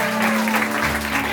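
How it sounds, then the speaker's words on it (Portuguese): Guests at a child's birthday party break into brief, close applause, a short burst of clapping with a steady hum beneath it. "queria que vocês dessem uma salva de palmas pro meu pai"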